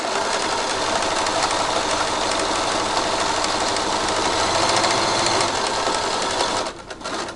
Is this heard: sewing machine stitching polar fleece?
yes